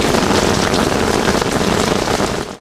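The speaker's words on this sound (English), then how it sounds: "All we can do is to watch the rains drain into our rooms." Heavy rain pours loudly and steadily onto surfaces during a flood, a dense close hiss that holds constant before cutting off abruptly at the end.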